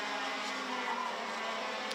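KA100 racing karts at a round of the championship at Ostricourt, their small two-stroke engines droning together in a steady, continuous buzz from a pack on track at moderate distance.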